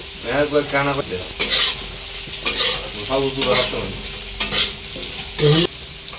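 Taro roots frying in a pan, loud sizzling broken by repeated spatula scrapes and stirs, with people talking over the cooking throughout.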